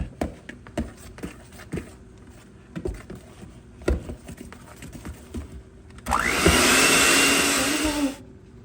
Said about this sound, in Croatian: Damo šećera u prahu i onda ćemo opet da umutimo mikserom.